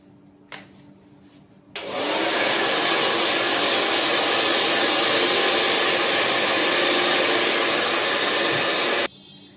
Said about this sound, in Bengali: এবার আমি ব্লো ড্রায়ার করে ড্রাই করে দেখাচ্ছি।